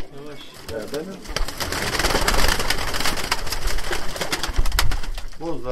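Abdal Arap tumbler pigeons coo in a busy loft, repeated soft burbling calls close by over rustling and scuffing, with occasional voices in the background.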